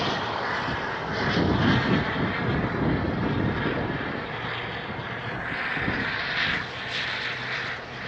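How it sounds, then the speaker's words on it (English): Airliner taxiing at Phoenix Sky Harbor airport, a loud, continuous engine roar and whine that swells and eases slightly over several seconds, heard alone from fairly close. "Watch a plane taxi."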